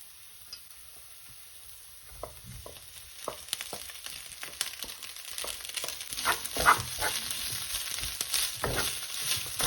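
Egg fried rice with prawns frying in a pan: a steady sizzle that grows denser and louder as the rice is stirred, with scraping and clattering strokes from the utensil.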